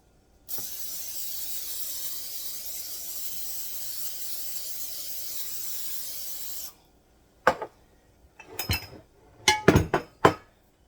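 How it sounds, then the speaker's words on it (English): A can of cooking spray hisses continuously onto a bread pan for about six seconds, then falls silent before a few light metallic clinks and scrapes of the pan. "Now I'm going to spray my bread pan."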